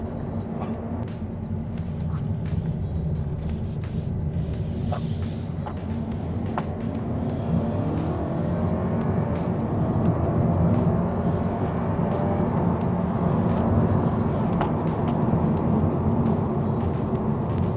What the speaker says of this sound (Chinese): 所以它还是有加入了这个 模拟换挡声音